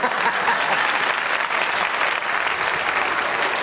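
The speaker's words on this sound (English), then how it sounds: "I want to see if anybody else is going to applaud" Studio audience applause on a late-night television talk show, a dense, steady wash of many hands clapping that fills the whole stretch without pause or voices.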